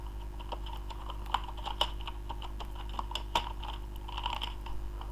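Fingers type on a computer keyboard nearby: a quick, uneven run of light key clicks over a steady low electrical hum, with no one speaking.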